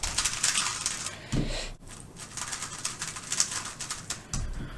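Rapid, soft clicking and clattering of a WRM 2021 Maglev speed cube being turned, a steady patter of hollow plastic clicks close by.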